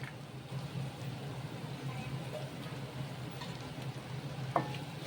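Mutton boti fry with fresh coriander is stirred in a pan, a soft continuous sizzle with faint scrapes and one sharper knock near the end, close and moderately quiet with no talk.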